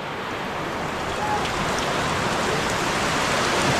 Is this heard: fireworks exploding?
no